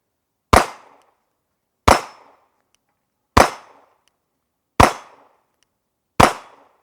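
Five pistol shots fired one at a time with a twisted grip, each a sharp loud crack with a quick decaying tail, spaced roughly evenly about one and a half seconds apart.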